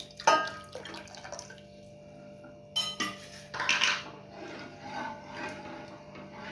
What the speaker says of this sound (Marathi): थोडंसं पाणी आपण यामध्ये ऍड करायचंय